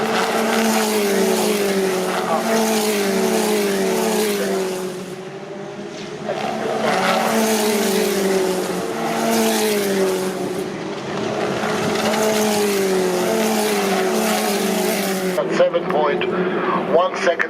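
DTM race cars roar at full throttle around Brands Hatch in 2019, their engine notes rising and falling in long sweeps as they pass, with a commentator talking over the noise throughout.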